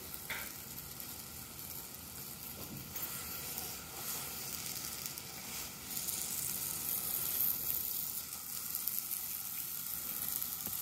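Quiet, steady hissing sizzle from an apple pulled out of snow in a home science experiment, a constant crackle that swells slightly partway through, heard alone without speech.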